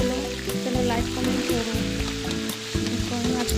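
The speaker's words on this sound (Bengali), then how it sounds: "তেল গরম হয়ে গেছে মাছগুলো একে একে তার ছেড়ে দিচ্ছি মাছগুলো ছেড়ে দিয়ে ভালো করে উল্টিয়ে পাল্টিয়ে আমি ভেজে নেব" Fish sizzling and crackling steadily in hot oil in a home kitchen as the pieces are added and turned, a continuous close frying hiss with a musical tune playing underneath.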